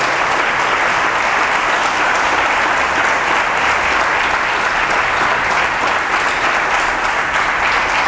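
Loud, sustained applause from a large congregation at a church convention in Planeta Rica, Colombia, a dense wash of clapping that holds level throughout.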